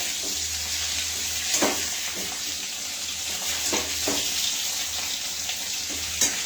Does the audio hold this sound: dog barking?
no